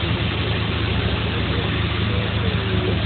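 Steady car engine drone at a drift event in Kharkiv, a dense low rumble holding at constant loudness close by, with a faint rising pitch near the end as the throttle opens.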